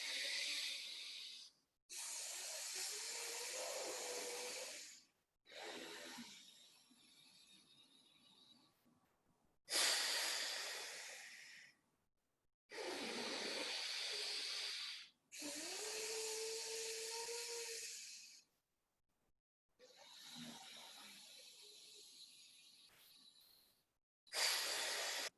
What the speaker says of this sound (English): if you are allowing your breath to go out through your throat